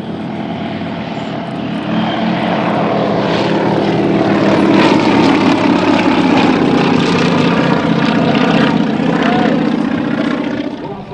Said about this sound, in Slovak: dvojicu akrobatických lietadiel Zlín